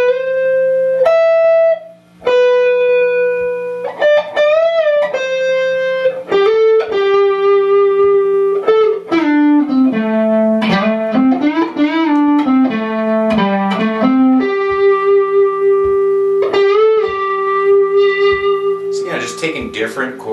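Electric guitar plays a slow melodic line with notes bent up a whole step and sliding down, sustained and slightly distorted, close and clear.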